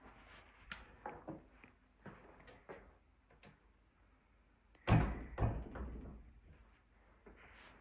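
A door in a historic house in Phoenix, Arizona, swings open and shut with a series of sharp knocks and clunks, ending in one heavy slam followed by rattling, fairly close and otherwise quiet.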